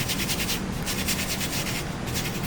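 A stick of willow charcoal is rubbed back and forth on a sanding palette, making a close, steady gritty scraping with a regular rhythm of strokes.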